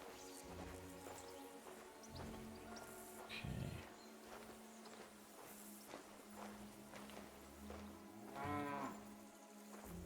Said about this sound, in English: It sounds like there's still a cow alive.